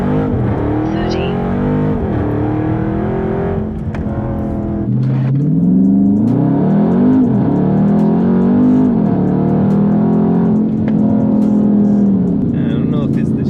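A Dodge Charger 392 Scat Pack launches in track mode, its V8 revving hard through rising pitch sweeps and shifts, loud and close inside the cabin, with someone talking at times.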